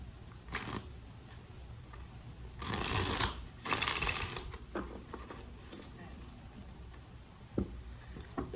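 Tarot cards shuffled by hand, two dense riffling bursts in the middle with scattered light taps and card clicks around them, quiet and close.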